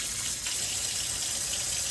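Escargot snails gathered from creek water are rinsed and scrubbed under a running kitchen tap, a steady close hiss of flowing water with no talking.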